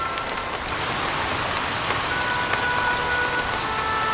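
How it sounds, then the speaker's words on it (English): Steady rain falls on a surface, a dense even patter of drops throughout, fairly loud and close, with no voices. "I decided to wait it out here while it's raining."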